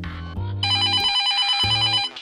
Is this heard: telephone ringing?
yes